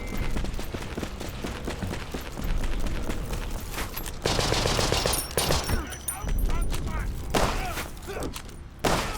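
Machine gun fire in the Conscript video game, rapid bursts of close, loud gunshots repeating through the clip, broken by short pauses and mixed with other game noise.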